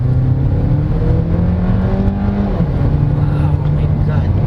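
A 2023 MG GT Sport car's engine rises steadily as the driver floors it from normal driving, a close droning climb heard from inside the cabin.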